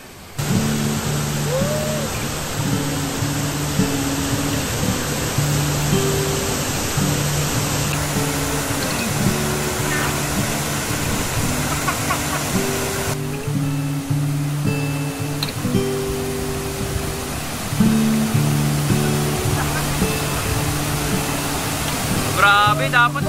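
Bumbungan Falls in Cavinti, Laguna, rushing as a steady, dense roar of falling water that runs throughout, with faint tonal hums and occasional sounds layered over it.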